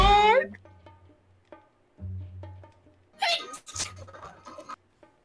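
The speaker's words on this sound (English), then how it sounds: "It was a sneeze." A single short sneeze bursts out near the start, loud and close, followed by scattered soft noises and a voice talking in the background.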